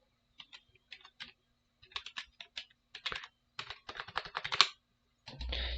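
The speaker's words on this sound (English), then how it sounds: "if I can actually type" Someone types on a computer keyboard in bursts of quick keystrokes that speed up and grow louder toward the end, then stop, followed by a brief steady noise.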